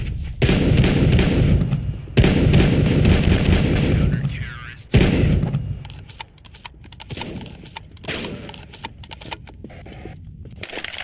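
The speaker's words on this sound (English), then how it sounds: "Flashbang out." Counter-Strike match audio, with gunfire in loud sustained bursts and a flashbang grenade, followed by sparser clattering shots and game noise. Players' voices come through under the action.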